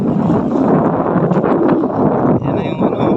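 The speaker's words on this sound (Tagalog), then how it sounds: "yung lakas ng hangin." Strong wind buffets the microphone in a broad, steady roar at sea, loud and continuous with gusting surges throughout.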